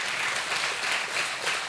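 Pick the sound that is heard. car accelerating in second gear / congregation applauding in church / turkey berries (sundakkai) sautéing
congregation applauding in church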